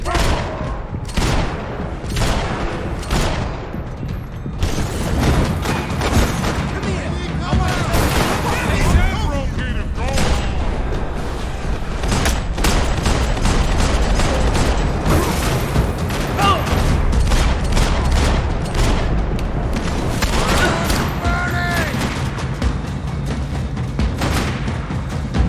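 Heavy gunfire in the Max Payne 3 video game, loud rapid volleys of shots and bursts cracking continuously throughout, with voices shouting amid the shooting.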